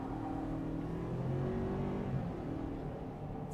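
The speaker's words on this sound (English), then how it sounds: "it whines and it makes horrible, cheap noises" A 2023 Ford Ranger XLT engine whines steadily as the truck accelerates, a continuous droning hum with rising pitch tones, close and moderately loud with no talking.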